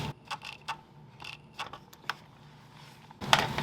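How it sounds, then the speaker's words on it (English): Bolts on a Toyota Corolla grill shutter are tightened with a ratchet, giving a series of quiet, close clicks and creaks spaced irregularly, followed by a louder burst of clicking at the end. "And now I'm going to tighten the bolts on both sides."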